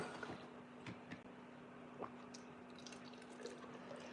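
Liquid is poured into a glass jar before it is sealed, a faint trickling and dripping with a steady hum in the background, close and quiet, with no talking.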